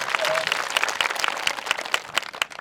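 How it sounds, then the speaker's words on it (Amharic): Congregation clapping for the Lord at a church service, a dense run of quick overlapping handclaps with a faint voice or tone briefly rising early on. "አጨብጭቡ ለጌታ"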